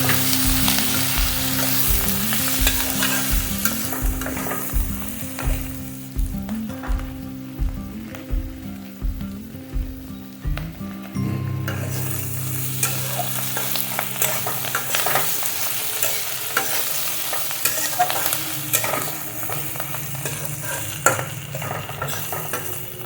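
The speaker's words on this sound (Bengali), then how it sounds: "কষিয়ে নেব" Ginger paste, ground coriander, turmeric, salt and cumin paste frying in a pan for a Malabar spinach seed and prawn curry, a steady sizzle broken by rhythmic scraping strokes of a spoon, then a softer continuous hiss.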